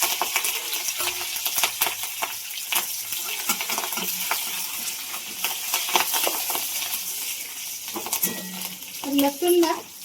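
Crushed garlic, cumin and curry leaves sizzle steadily in hot oil for a Marathi tadka, with frequent clinks and scrapes of a stirring spoon against the pan throughout, up close and without talk.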